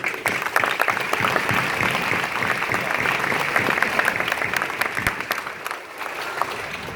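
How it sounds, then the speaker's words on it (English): Crowd applause at an army family day ceremony for new soldiers, sustained dense clapping from a large outdoor audience for several seconds, tapering slightly near the end. "so give yourselves a round of applause."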